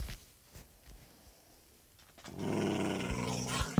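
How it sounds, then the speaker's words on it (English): A dog in the Minecraft video game growls in a low, rumbling snarl that swells up after a quiet stretch of light tapping, loud and close. "What the heck is that? It's a dog."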